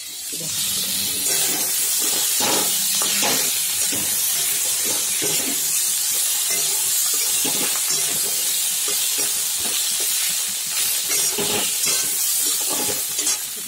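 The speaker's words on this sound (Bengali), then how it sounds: "আগে থেকে সেদ্ধ করে রাখা ছিল, হলুদ দিয়ে মুগ ডালটা ঢেলে দিলাম।" Boiled moong dal with turmeric is poured into a hot pan of fried spices, producing a loud, steady sizzling hiss with scraping stir strokes throughout and no talk.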